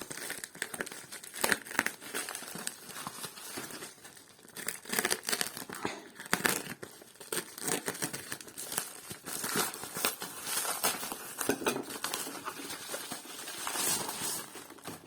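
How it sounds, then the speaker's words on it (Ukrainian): AliExpress parcels are unpacked, with continuous close crinkling and rustling of plastic packaging and occasional tearing, fairly quiet and busy throughout. "Отже, розпаковуємо посилки."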